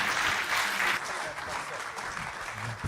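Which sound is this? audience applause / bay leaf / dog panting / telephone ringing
audience applause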